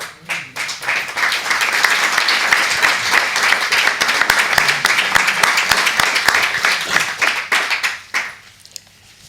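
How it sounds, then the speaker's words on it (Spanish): An audience claps in sustained applause, dense and even for about eight seconds before it fades out near the end. No voices are heard over it. "Ese aplauso no es para mí"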